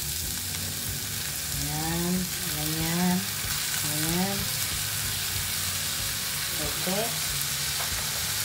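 Chicken sautés in a hot pan for arroz caldo with a constant loud sizzle, while a person talks intermittently over the frying.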